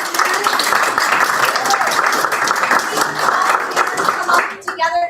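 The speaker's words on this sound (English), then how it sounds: "All right, big round of applause to all." Audience clapping for competition participants at an innovation event, a loud, dense round of applause held steadily for several seconds before tapering off at the end.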